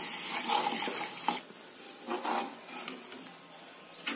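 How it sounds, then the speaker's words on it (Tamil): Tamarind extract is poured into a pan of sautéed masala for Tamil fish curry, giving a soft splashing, rasping wash with brief liquid surges, close and moderate without speech. "இப்போ இந்த புளி கரைச்சல எடுத்து ஊத்த போறேன்."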